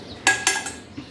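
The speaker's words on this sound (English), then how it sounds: "Now we'll remove this ginger also on the plate." Roasted ginger is scraped from a pan onto a plate, giving two sharp clinks of a utensil against metal and ceramic, then a light scrape and a soft final tap, close and clear with no talking.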